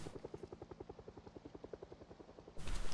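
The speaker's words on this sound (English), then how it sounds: "I'm hearing the chopper." Helicopter overhead in the video game Project Zomboid: a steady rhythmic rotor thump at moderate distance for over two seconds, then cut off by a sudden burst of louder noise.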